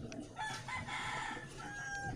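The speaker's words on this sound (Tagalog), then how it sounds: "Manok pala dito sa lugar na ito." A rooster crows in a long, drawn-out call, somewhat distant, over a steady background hum, at night on the Philippine coast.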